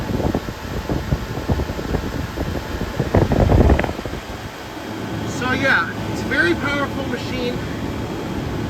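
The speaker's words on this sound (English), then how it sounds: "Compressor is running smooth." A Comfort Air 29,000 BTU air conditioner runs on low cool with a steady fan whoosh and compressor hum, and a person speaks over it partway through.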